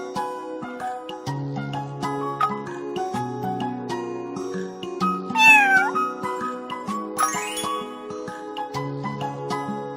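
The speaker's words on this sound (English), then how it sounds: "Cat." A cat meows a couple of times, close and clear, over light tinkling background music.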